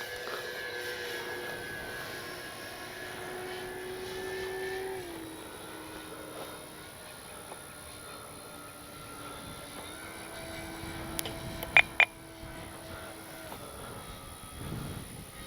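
A Flightline P-38 1600mm RC plane flies at a distance, its twin electric motors giving a thin whine that shifts in pitch as it passes and circles, with a few sharp clicks near the end.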